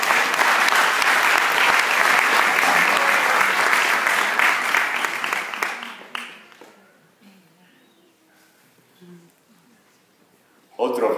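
Audience applause at a 2015 graduation ceremony, a loud, dense stretch of clapping lasting about six seconds before fading into near quiet, with a brief burst of sound returning at the very end.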